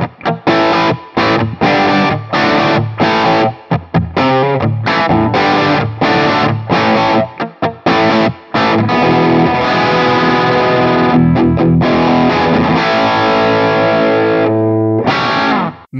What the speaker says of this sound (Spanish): Y ahora vamos con Crunch, pastilla del puente, ¿vale? La pastilla agudita.